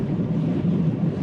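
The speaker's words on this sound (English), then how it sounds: "It's really windy out today." Wind buffeting outdoors on a gusty day, a steady low rumble of rushing air against the microphone, close and continuous with no voices.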